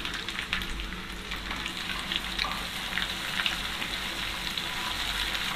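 Cumin and coriander powder sizzling in hot oil in a pan as the spice base for a Mezbani-style chicken roast; a steady, close, even hiss of frying with faint stirring and no voices.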